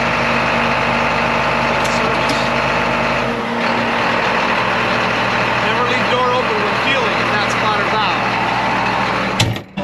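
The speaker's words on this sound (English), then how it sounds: "Tractor to the field, gonna get filled up," A farm tractor engine runs with a steady heavy drone and loud low rumble throughout, close by, with a voice talking over it.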